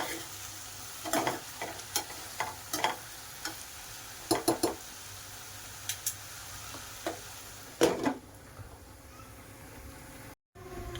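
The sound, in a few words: vegetable curry being stirred and fried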